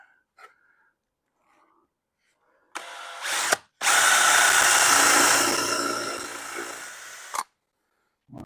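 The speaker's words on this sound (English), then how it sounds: "I'm simply going to put countersink 3 screws in here" A power drill driving countersunk screws into a wooden dresser case: a short whine, a brief stop, then a longer loud run that bogs slightly as the screw seats, ending abruptly.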